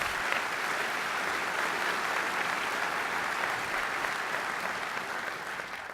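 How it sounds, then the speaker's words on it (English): Conference hall audience at a 2011 GEOINT keynote gives a sustained round of applause, even and dense throughout, tapering slightly near the end. "So Tish, please, a round of applause."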